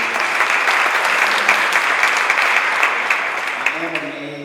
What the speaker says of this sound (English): Let's give her a big round of applause, too.